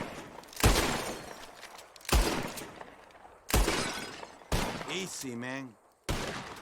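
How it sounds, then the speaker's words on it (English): Five sharp pistol shots in Red Dead Redemption 2, each followed by a burst of breaking glass bottles, come at uneven intervals of about one to one and a half seconds, with a short spoken line between them. "Whoever shoots more of these bottles wins."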